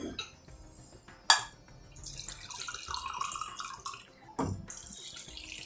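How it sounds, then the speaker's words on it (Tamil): Water poured from a cup into a cooking pot while a vegetable kurma is made in a kitchen, two bursts of splashing pouring separated by a sharp clank and a short pause, fairly close, with no one speaking. "ஸோ இது கொஞ்சம் நல்லா வாஷ் பண்ணி இதில் தண்ணி விடுறேன்."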